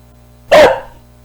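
A single short dog bark played by a computer program, close and fairly loud, standing out clearly against a quiet background hum.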